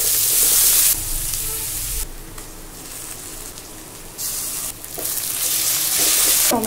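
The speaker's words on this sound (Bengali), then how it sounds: "এবার একটু তেল দিয়ে পেঁয়াজগুলো ছেড়ে দেবো।" Onions sizzle and fry in hot oil in a pan during home Bengali cooking, a loud steady crackle with brief stirring scrapes, ongoing without talk.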